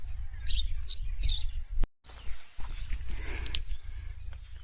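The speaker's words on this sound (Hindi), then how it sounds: "तो दिन भर हमें पंछियों की आवाज़ सुनाई देती है, कभी गुटरगू गुटरगू," Small birds chirp in quick, bright bursts around a village home garden with brinjal plants. The calls repeat in the first half, then return more sparsely over a steady low rumble, with a brief dropout near the middle.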